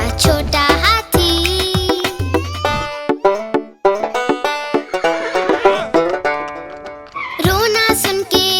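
A horse whinnies in loud, wavering, high-pitched neighs that rise and fall, repeated several times over a children's rhyme setting, with a snorting burst at the end and no speech.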